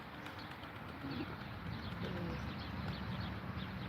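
Soft, low pigeon coos repeat a few times against a steady outdoor background hum, fairly faint and unhurried.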